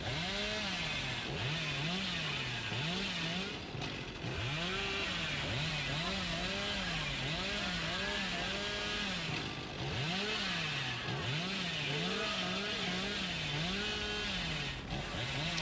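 A chainsaw revving continuously in the game Dead by Daylight, its engine pitch repeatedly rising and falling in wavering cycles, loud and up close, with brief dips between bursts.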